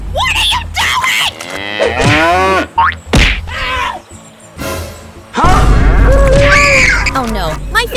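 A cow moos loudly during an animated animal fight, its long bellowing calls mixed with thumps, whacks and excited shouting voices throughout.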